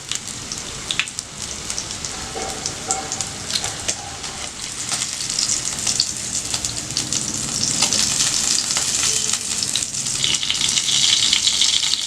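Sardines frying in hot oil with curry leaves in a home kitchen, a steady dense sizzle and crackle that swells louder toward the end, with no talking.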